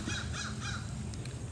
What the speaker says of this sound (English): There's a crow out here.